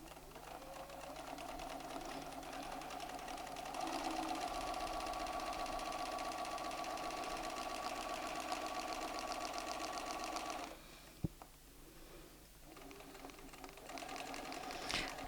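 A Bernina sewing machine stitches fabric with a ruler foot riding along a template edge, a steady close mechanical whir that runs for about ten seconds, briefly stops with a sharp click, then resumes.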